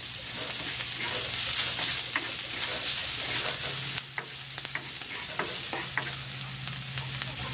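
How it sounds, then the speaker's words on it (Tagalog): Garlic and onion sautéing in a hot pan with pork set aside, a steady loud sizzle and frying hiss throughout, broken by scattered stirring scrapes and clicks, with a brief dip in intensity partway through. "Magigisa na ako ng bawang."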